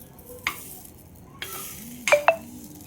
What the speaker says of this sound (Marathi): आप्याच्या तव्यामध्ये एक थोडंसं तेल लावलं. अगोदर तेल लावल्यानंतर एक आप्पे सोडले.